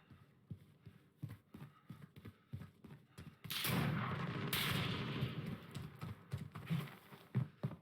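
Scattered gunshots crack through a Call of Duty: Modern Warfare multiplayer match, with sharp repeated reports before and after a louder, sustained burst of blasts in the middle.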